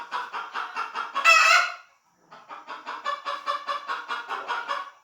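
Several chickens clucking in quick repeated bursts, close by and loud, with a brief louder squawk and a short pause before the clucking resumes.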